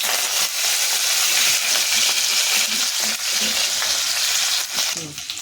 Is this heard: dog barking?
no